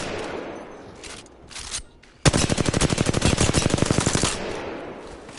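Assault rifle fire in Apex Legends, one loud sustained automatic burst of rapid evenly spaced shots lasting about two seconds, preceded and followed by softer game ambience.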